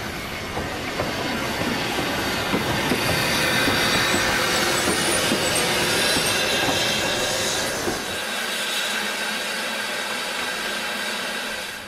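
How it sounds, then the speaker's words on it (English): A heritage train rumbles into Porthmadog station with continuous loud rolling noise, clattering wheels and faint squeals, easing into a steadier hum as it settles. "So our train has arrived in Porthmadog, and passengers are making their way on at the moment."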